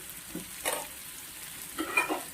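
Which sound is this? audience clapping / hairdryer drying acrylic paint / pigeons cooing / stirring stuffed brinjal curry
stirring stuffed brinjal curry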